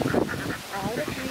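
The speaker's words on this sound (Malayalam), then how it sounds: "എല്ലാം നല്ല ആരോഗ്യമുള്ള താറാവുകളാണ്" Ducks from a large flock on a Kuttanad paddy field give honking quacks in short bursts over a few seconds, close by and moderately loud, with a voice talking faintly underneath.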